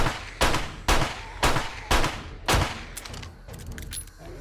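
Five loud, evenly spaced gunshots ring out in 7 Days to Die, each with a sharp crack and short decay, followed by fainter clicks and clatter of reloading.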